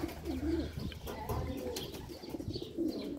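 Pet pigeons or doves coo in a low, throaty rhythm, several repeated calls rising and falling close by, with faint chirps and rustling in the background.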